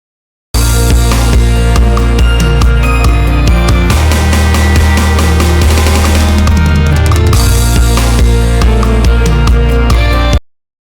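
A mastered gospel song plays loud and dense, with punchy drums, bass and keys packed tightly together, cutting off suddenly at the end.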